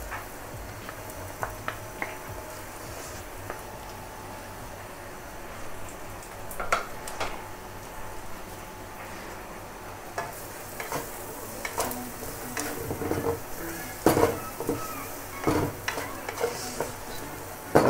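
Shrimp frying with noodles in a pan, a soft steady sizzle under intermittent stirring clatter that grows busier and louder in the second half.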